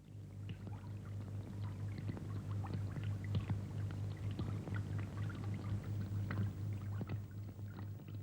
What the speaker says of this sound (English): The crew now turn to deal with the water that is starting to leak through a number of valves into the command area.